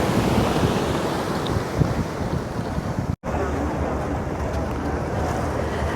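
Sea waves and wind wash around a ferry boat off Lakshadweep, a broad steady roar with gusty wind noise on the microphone, with one abrupt brief dropout partway through.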